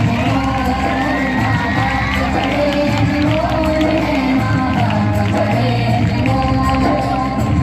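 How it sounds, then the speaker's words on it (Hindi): Children and adults at a primary school annual function cheer and shout together in a loud, steady crowd roar that fills the whole stretch, with scattered whoops over the din. "जोरदार ताली प्यारे बच्चों"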